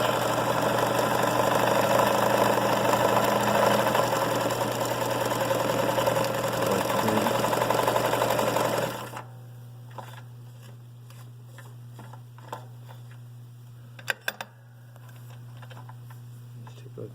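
A vintage late-1970s Sears Kenmore 158.17540 sewing machine stitches zigzag with a steady, close motor whir and needle chatter for about nine seconds, then stops, leaving a low hum and a few small clicks.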